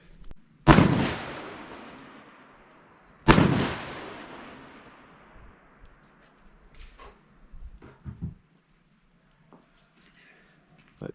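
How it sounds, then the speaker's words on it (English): A Charles Daly Honcho tactical semi-auto shotgun firing 3-inch shells at cardboard outdoors: two loud, sharp blasts a few seconds apart, each trailing off in a long fading echo, followed by faint handling clicks. "Let's take another shot at a new piece of cardboard."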